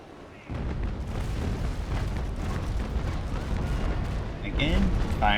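Heavy cannon fire in a naval combat video game involving USA ships and a pirate, with a dense, sustained roar of booms filling the whole stretch at steady loudness, a few brief tonal game cues near the end.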